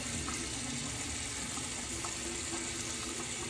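Tap water runs steadily into a bathroom sink while a razor is rinsed of lather and whiskers after a shave, a close, constant splashing hiss with faint clinks.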